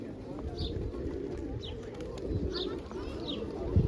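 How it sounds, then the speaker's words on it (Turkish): Pigeons coo softly several times over steady outdoor background noise near Hisar Castle, with a few brief bird calls. "Gelip böyle güvercinlere yem atabiliyorsunuz."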